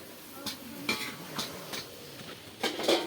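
Two cooks preparing birthday food in a home kitchen, with pots and utensils clattering and scraping in irregular metallic knocks over a low sizzle of frying, close by.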